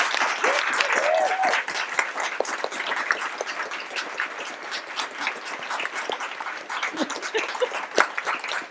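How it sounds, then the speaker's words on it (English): An audience at a book launch claps in a dense round of applause that starts strong and then settles to a lighter, steady patter, with brief voices rising above it. "can we just have another round of applause for Michelle?"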